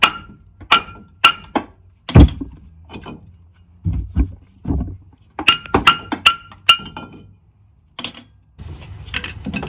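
A brake rotor is worked off the hub of a 1988-1992 Toyota Corolla, with a series of sharp metallic clinks, knocks and thunks at irregular intervals, close and isolated.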